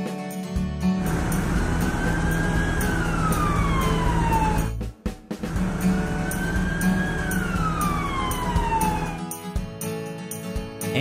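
An ambulance siren in a children's animated vehicle cartoon wails in two long rising-and-falling sweeps, cut by a brief gap, over a steady bed of backing music.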